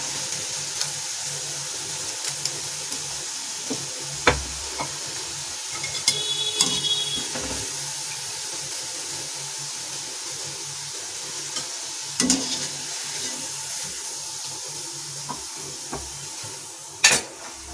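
Malai koftas sizzle steadily in hot oil in a pan as they finish frying, a soft continuous hiss broken by scattered clinks and scrapes of a utensil lifting them out.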